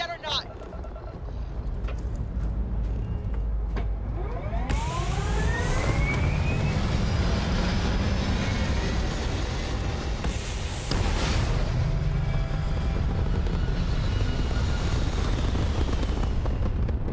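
Spaceship takeoff engines in the Starfield video game, a loud sustained roar with rising whines and sweeping tones that builds and surges over about seventeen seconds, with voices speaking over it.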